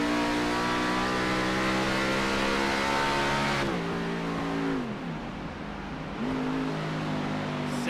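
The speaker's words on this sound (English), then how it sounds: "You hear the engine cut out just a hair crossing that start finish line" Race car engine at Sonoma Raceway running hard under steady load with a loud, sustained drone, briefly cutting out and dipping mid-clip, then picking back up as it climbs toward the hill.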